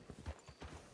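Horse hooves clip-clopping in a role-play video game on a ranch, a quick run of soft thudding steps at a steady walking rhythm, close and moderately quiet.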